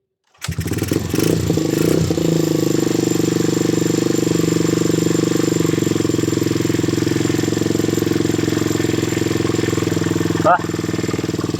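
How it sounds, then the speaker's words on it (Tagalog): A carbureted motorcycle engine starts up after a brief moment of quiet, then keeps running with a steady, loud idle close by through the rest of the clip. "dyan pa lang papaandar natin yung motor natin"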